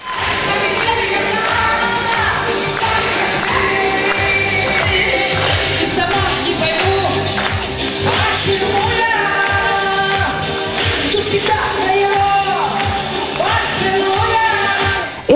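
At a charity concert in a cultural hall, a large audience fills the room with steady, sustained applause mixed with cheering and shouts.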